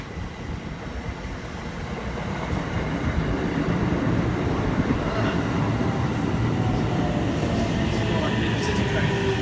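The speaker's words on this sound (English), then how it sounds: "Here comes our train." Train pulling into a station in Japan, with a loud, steady rumble and clatter of rail cars that grows and then holds close by, and people speaking faintly under it.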